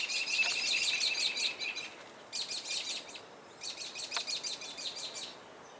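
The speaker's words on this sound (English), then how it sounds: "You see, we have birds in our gutter." Dove chicks in a rain gutter give bursts of thin, high chirping calls in three rapid runs separated by short pauses, close and fairly clear over a quiet background.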